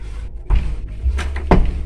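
A newly installed wooden door is swung shut in its fresh door jamb, giving a couple of close, solid knocks and thumps over a low background hum.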